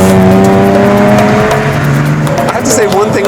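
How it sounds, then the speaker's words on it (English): Nissan Skyline GT-R KPGC10 engine with carbureted intake, a loud sustained drone that shifts pitch as it revs, with a faint tire squeal near the end. "sounds like a Lamborghini V12, just all of that carbureted intake noise"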